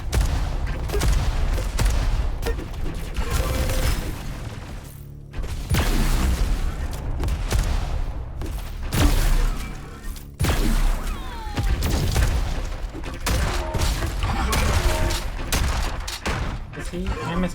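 Repeated grenade blasts and bursts of gunfire in the Alan Wake video game, loud and dense, with booming explosions and rattling shots. Brief lulls separate the bursts, and a voice talks over parts of the action.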